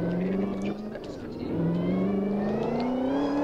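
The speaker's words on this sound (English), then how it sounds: "This car is this car is loud." A loud car engine in a Roblox video game drones and revs steadily, its pitch rising and falling, with faint voices underneath.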